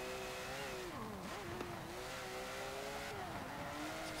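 A 1971 Porsche 917 race car in Forza Motorsport 7 drives at speed, its engine holding a steady high drone with pitch dips and rises as it shifts and brakes, loud and continuous with no talking.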